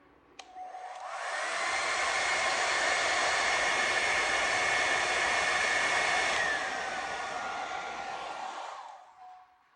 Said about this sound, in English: I'm going to be heating that with the blow dryer.